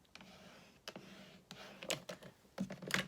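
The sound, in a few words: cutting card back and forth with a trimmer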